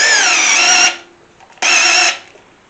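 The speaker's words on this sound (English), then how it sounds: "I'm going to run this drill in there and start pumping some fluid through here" Cordless drill turning a socket and extension to pump oil through an engine being assembled, whining in two bursts of under a second each with a brief pause between, loud and close.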